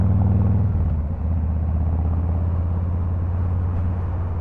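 A Harley-Davidson Fat Boy 114 motorcycle engine rumbles loud and close while riding, a deep steady throb that dips briefly before settling back into an even drone.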